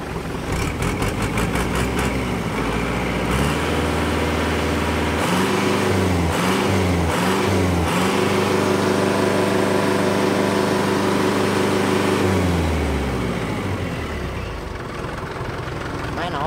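A Kubota L5018 tractor engine runs nearby, a loud steady diesel rumble that rises and falls through a couple of revs before settling back toward idle, with voices faint underneath.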